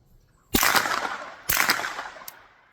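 Two sharp suppressed gunshots from a Rugged Alaskan 360 suppressor firing round nose ammunition, each a loud crack trailing into a short decay about a second apart, followed by a faint metallic click.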